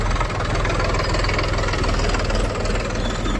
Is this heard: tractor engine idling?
yes